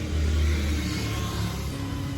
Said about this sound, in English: Here's one of the delivery vehicles here.